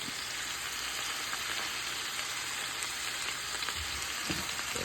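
Steaks are laid one by one into a hot pan on low heat, giving a continuous, even, close sizzle with no talking.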